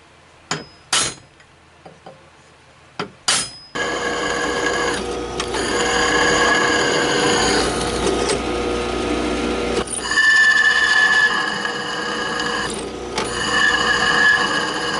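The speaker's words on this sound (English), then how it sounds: "so I got the 4 holes drilled" Power drill bores holes in a homemade lathe part, whining loudly and steadily at close range for about eleven seconds with a few brief dips, preceded by several sharp metallic clinks and taps.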